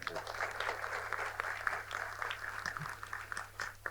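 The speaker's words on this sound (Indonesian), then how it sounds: "tepuk tangan dong" Faint, steady clapping from an audience at a political talk event, a soft patter of many hands that continues throughout at low volume.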